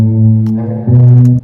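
A finger-played guitar sounds alone, two loud sustained tones, the second starting a little below a second in and ringing until the clip ends.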